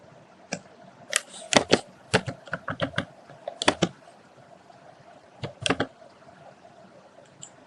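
Keys clatter on a computer keyboard while entering an Excel formula, in quick irregular bursts of clicks with short pauses, close by and crisp, without any talking.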